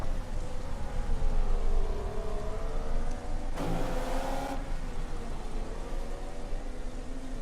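The Williams F1 car of Valtteri Bottas in the F1 2014 racing game at the Hungary round screams at high revs in a steady, loud engine drone, with a brief gear-change burst partway through.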